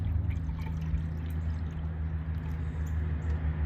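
Coolant pours steadily into the plastic reservoir of a 2012 Ford Escape, a continuous liquid trickle under a low, steady hum, close and moderately quiet with no voices.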